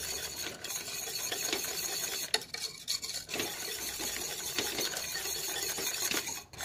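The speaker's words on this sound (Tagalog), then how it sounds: "Stir muna natin ng maigi." Banana brownie batter thickened with cornstarch being stirred in a pan, continuous scraping and swishing with irregular pauses and a few sharper knocks of the utensil, close and fairly loud.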